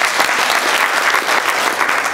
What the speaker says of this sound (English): Round of applause for these wonderful people.